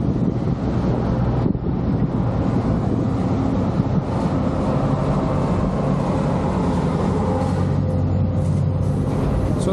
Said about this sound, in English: here's another train coming in